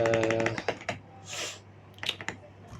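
Quick bursts of keystrokes on a computer keyboard while setting up a CentOS/Ubuntu server install, with a pause and a few scattered taps toward the end.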